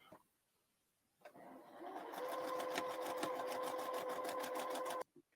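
A sewing machine runs through the final seam of a paper-pieced quilt block, a rapid even whirring hum lasting about three seconds after a brief click, then stopping abruptly.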